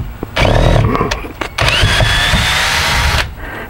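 A power tool backing square-headed screws out of a wooden panel: loud whirring drill bursts with short pauses between them and brief clunks as each screw frees, close up.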